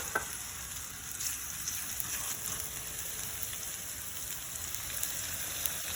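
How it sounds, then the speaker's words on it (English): Potatoes and onions sizzle steadily in hot oil in a pan, a dense, even crackle with faint scraping, close and continuous throughout. "Hear that sizzle?"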